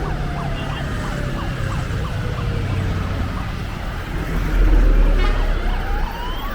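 An ambulance siren wails and sweeps up and down through busy road traffic on the way to Pokhara, Nepal, with a steady engine rumble underneath and the siren fairly close.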